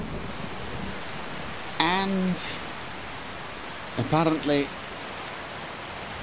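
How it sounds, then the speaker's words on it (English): Rain falling at night in Skyrim Special Edition, a steady broadband hiss throughout with two short bursts of speech over it. "We're heading out into the rain, the dragon-filled, rain-filled."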